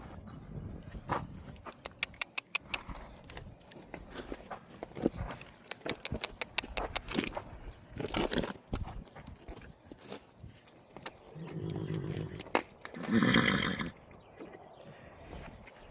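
Horses shuffle and clop on the ground beside a trailer, with irregular hoof knocks and thuds throughout, a few louder scuffing bursts near the end and faint rustling in between.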